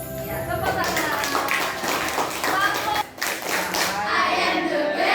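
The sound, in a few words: children clapping hands in class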